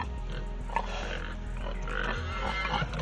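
A piglet on a homestead oinks and grunts close by, giving short squealing snorts over a steady background rumble.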